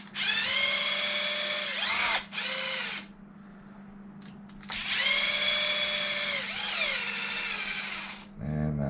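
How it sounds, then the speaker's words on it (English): A power driver backs four screws out of a Traxxas Sledge RC truck: two loud, close, whining bursts of motor spin, each over a second long, separated by a quieter pause with light handling noise. "I'm going to take these four screws off."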